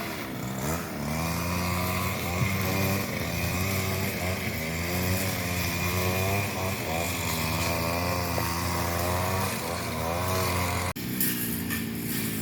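A motorized grass trimmer cuts grass in a Thai backyard garden, its engine whining steadily and close with rising and falling pitch as it bites into the grass, then cutting out abruptly near the end.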